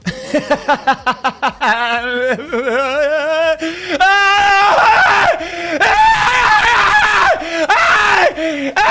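Loud, shrill screaming that rises and falls in several drawn-out bursts, starting with quick, choppy cries and building into sustained shrieks that run nearly without pause for about nine seconds.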